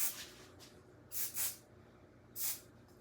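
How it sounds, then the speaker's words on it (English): Basting spray on quilt batting for a poinsettia quilt: short, quiet aerosol hisses close by, two bursts back to back and then a single one about a second later. "just put a little bit of basting spray right."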